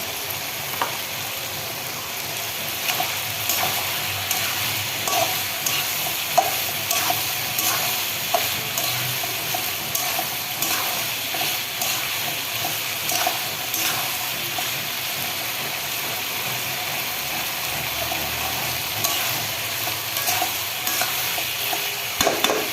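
Tomato is stirred into sautéing masala in a pan for bitter gourd (karela) curry, giving a steady close sizzle with repeated scraping and stirring scrapes throughout, no talk.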